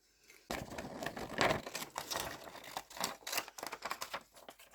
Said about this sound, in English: So I'm going to just take a pair of scissors because we don't want to ruin the other ones.